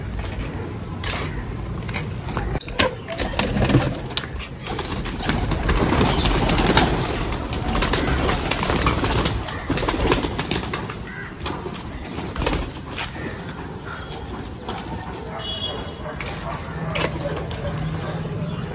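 Domestic pigeons coo repeatedly amid a busy, clattering background with occasional wing flaps and muffled voices, continuing steadily throughout.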